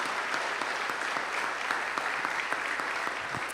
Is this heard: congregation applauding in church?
yes